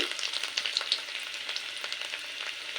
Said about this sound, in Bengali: আদা রসুন আর কাঁচা লঙ্কা একটু ভেজে নেওয়ার পর দিয়ে দেব